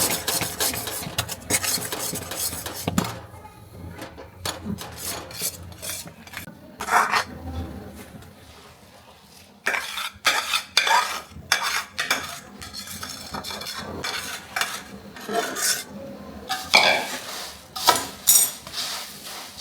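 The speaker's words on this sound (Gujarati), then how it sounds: "મમરામાં પાક નાખી અને આપણે હલાવવામાં થોડી સ્પીડ રાખવાની ઝડપથી હલાવી નાખવાના" Puffed rice is stirred quickly with hot jaggery syrup in a metal pan, making steady scraping, rasping and clinking of a spoon against the pan, with brief quieter pauses before vigorous stirring resumes.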